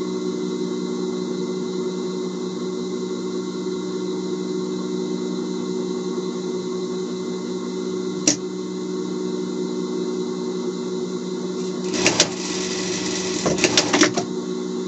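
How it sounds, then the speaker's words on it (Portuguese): An overlock serger runs steadily while finishing seams on a handmade Paw Patrol Chase costume, a continuous mechanical hum with brief louder rattling bursts near the end. "Vou passar na overlock para dar uma limpeza"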